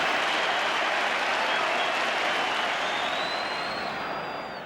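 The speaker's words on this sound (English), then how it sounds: "these pretty long-suffering fans in the stadium tonight have something to cheer" A football stadium crowd roars continuously after England's comeback goal against Albania, a loud, dense wall of cheering and applause that holds steady and then slowly tapers off.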